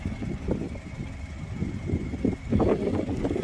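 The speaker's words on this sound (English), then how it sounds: "Car's running." Vauxhall Mokka X 1.4 petrol engine idling with the bonnet open, a low steady rumble heard close up with some handling bumps and a louder thump near the end.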